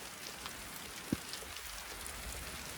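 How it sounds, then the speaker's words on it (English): Light rain falling at a tiny cabin build site with concrete forms set around an EcoBlock foundation, a faint steady patter with one brief tap partway through, no voices. "Just started to rain"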